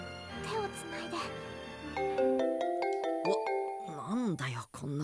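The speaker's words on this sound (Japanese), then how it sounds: "That's what the ringtone sounds like?" A cheerful melodic phone ringtone from the video game Digimon Survive plays as a series of bright stepped chiming tones over a steady backing, loud and close, ending in a rising-falling electronic flourish; a character's voice is heard faintly beneath.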